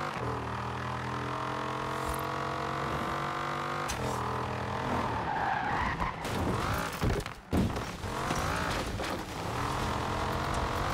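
Engine of a car in Forza Horizon 4 hums steadily and loud, then breaks into dull thuds and knocks as it loses control, with rough skidding and bumping near the end.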